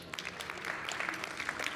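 Audience applause at a 5G smart cities panel event, a soft, diffuse wash of clapping that stays steady and somewhat distant for a brief moment.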